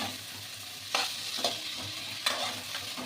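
Food is stirred in a sizzling pan with a spatula, giving a soft continuous frying hiss broken by a few distinct scraping strokes against the metal.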